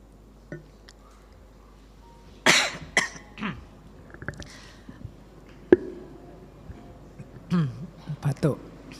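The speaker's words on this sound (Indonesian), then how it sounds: "Batuk." Several coughs and throat-clearing sounds come close to the microphone in uneven bursts, mixed with mouth noises in a quiet room.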